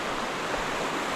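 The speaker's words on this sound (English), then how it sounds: "I can hear that water here." Water of the Huron River rushes steadily as a constant broadband wash, moderately loud and continuous, with no voices.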